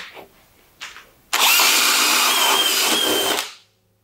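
A power drill driver roars loudly for about two seconds, grinding steadily into wood before winding down, after a couple of brief quiet thumps.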